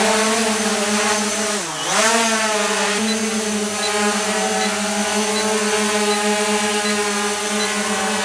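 Motors of an ATTOP WOLVY camera drone spinning up for an indoor takeoff, a steady loud whine with a brief dip in pitch before settling back to a constant drone.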